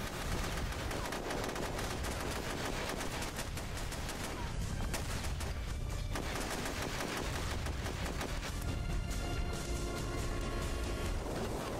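An AK rifle fires in the SOCOM II video game, rapid automatic bursts crackling loudly and densely through the whole stretch amid other battle gunfire.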